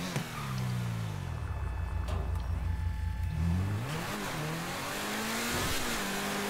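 A Lamborghini Veneno supercar in GTA 5 accelerates hard, its engine note climbing, dipping and climbing again through the gears in a loud, close roar, with a brief tire squeal near the end.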